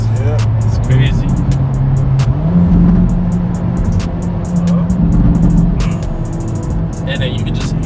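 A Hyundai Elantra N with a new aftermarket exhaust revs nearby, a loud, deep bassy drone rising and falling in pitch over several seconds, with a faint voice in the background.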